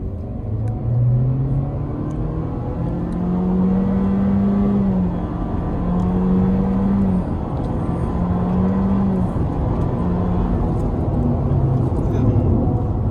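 A Honda Civic RS Turbo carrying five people accelerates on a solo run, its engine note climbing steadily through gear shifts, heard from inside the cabin with talk over it.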